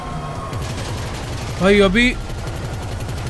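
Gunfire in the video game GTA 5, during an attack on a luxury hotel, rattles as a continuous rapid low burst under the action, while someone briefly speaks over it in the middle.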